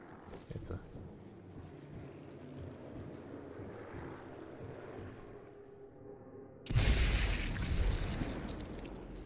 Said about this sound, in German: Wenn jetzt mal ein Flugzeug kommen würde.